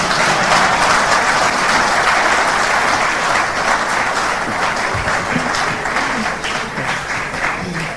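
A large audience at a televised mineral wealth development address applauds loudly and steadily for about eight seconds, a dense wash of clapping that eases slightly toward the end.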